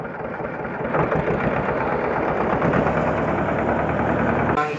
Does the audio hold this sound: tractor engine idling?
yes